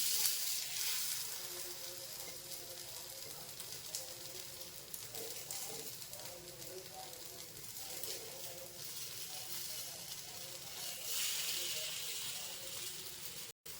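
Kambu (pearl millet) paniyaram cook in a pan with a soft, steady sizzle and fry that hisses evenly throughout, faint and close, swelling slightly near the end.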